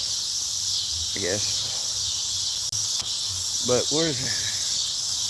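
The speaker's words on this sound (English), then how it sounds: "So you can listen to the cicadas" Cicadas drone outdoors in a continuous, loud high-pitched buzz that runs throughout, with a person speaking briefly under it twice.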